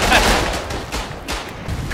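Loud gunfire in the World War I video game Verdun, a quick burst of several close shots with battlefield noise behind them.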